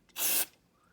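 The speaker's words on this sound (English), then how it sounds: "spray it in" A single short hiss of aerosol spray, close and loud for about a quarter second, then quiet.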